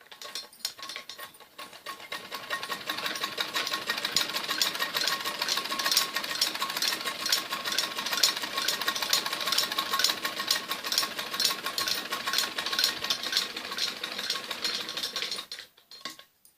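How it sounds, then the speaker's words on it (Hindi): Sewing machine stitching around the back neck of a kameez: a steady, rapid mechanical whirr that runs continuously for about fourteen seconds, close and moderately loud, then stops. "इसकी ऐसे बराबर बराबर सिलाई लगानी होती है"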